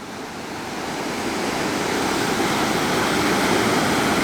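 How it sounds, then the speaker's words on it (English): A waterfall at a campsite atop the Continental Divide rushes in a steady, dense roar that swells slightly over the first second and then holds loud and unbroken, with no voices. "And we have the waterfall."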